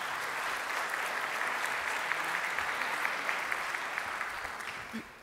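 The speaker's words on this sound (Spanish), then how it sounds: "Un fuerte aplauso para recibirla" Warm audience applause welcoming Dr. Graciela Márquez Colín of Mexico's national statistics institute to an evening event, a full continuous sheet of clapping from a sizable crowd, holding steady before tapering slightly at the end.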